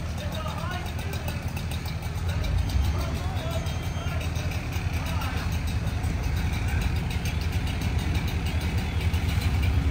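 Fire engine idling at a second-alarm commercial building fire at a winery, a steady low diesel rumble running throughout with radio chatter and voices over it.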